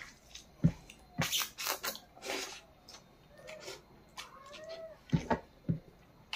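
A cat in a home gives several short meows mixed with scattered clatter and drip-like knocks, loud bursts separated by quieter gaps.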